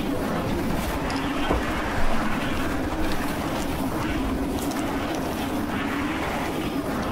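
A train in the video game Anthem gives a continuous, fairly loud rumbling drone that holds steady throughout, with a brief bump partway through.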